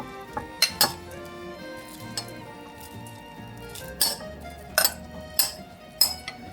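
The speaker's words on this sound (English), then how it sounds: "So now we're going to add our pork in." Pork dropped into a pot of Zuppa Toscana soup, heard as a handful of sharp metallic clinks and knocks of utensil against pot, spaced irregularly and fairly close, with a soft kitchen hum between them.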